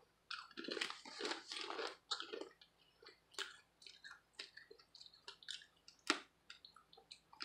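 Someone close by eats crunchy lime-flavoured plantain chips, with a burst of loud crunching followed by quieter, irregular bites and chewing, nobody talking.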